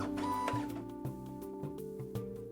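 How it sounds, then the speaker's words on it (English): Printer in the Toy Tinker Simulator video game printing decals, heard as a steady mechanical whir with a sustained tone, broken by repeated clunky steps and ticks roughly every half second. "Let's go to the printer. Need to print some decals for the base."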